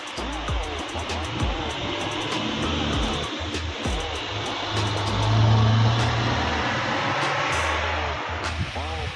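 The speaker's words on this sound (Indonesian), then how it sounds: "Ya, ini bus sudah keluar." A Putra Pelangi bus pulls out of the Batok Type A bus terminal, its engine holding a steady mid-range drone that swells briefly, with people talking over the traffic noise.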